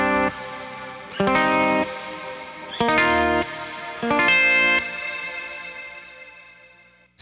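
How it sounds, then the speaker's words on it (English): Guitar chords run through a Meris Mercury X tube preamp algorithm, saturated and washed with reverb, struck in three loud bursts that ring out and slowly decay alone. "the character that the tube preamp has is adding this like high mid sort of like hiss"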